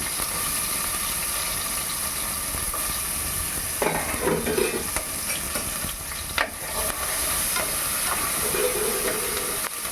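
Two green chillies and an onion fry in hot oil left over from frying aubergine, a steady loud sizzle and hiss throughout, with brief stirring scrapes in the middle and no talk.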